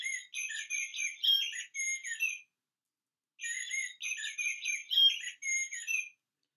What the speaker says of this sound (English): let's just listen to Mr. Blackbird